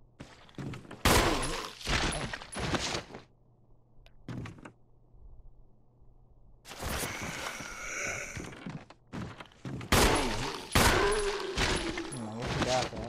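Gunfire in the Resident Evil remake video game: loud clusters of rapid shots in bursts, separated by short quiet gaps, with a voice talking now and then.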